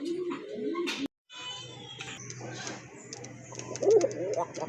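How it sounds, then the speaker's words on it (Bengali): A pair of large horse pigeons coo softly in low, repeated murmurs while someone talks over them, with a brief dropout near the start. "এক জোড়া ঘোড়া কবুতর অনেক বড় সাইজের কবুতর"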